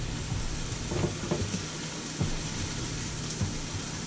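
Rice hitting a hot cooking surface beside a skirt steak, giving a steady broad sizzle with a few soft clatters and taps over it, close and moderately loud throughout.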